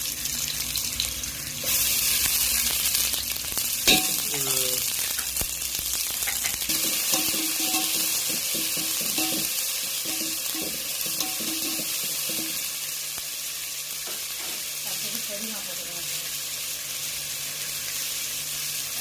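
Onions sautéing in a pan for chicken biryani make a continuous, steady frying sizzle with occasional stirring clinks, close by and without talk.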